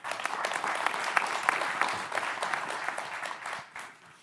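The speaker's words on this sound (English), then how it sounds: "I'd just like to say a round of applause and thanks to each member here" Workshop attendees applaud their panelists, a full, steady round of clapping from a sizable audience that holds for several seconds and then tapers off.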